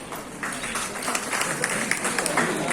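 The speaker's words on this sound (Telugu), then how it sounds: "వాళ్ళకి క్లాప్ చేయాల్సిందే." An audience claps together at a session marking World Creativity and Innovation Day, a steady patter of many hands at moderate loudness that carries on through the moment without a break.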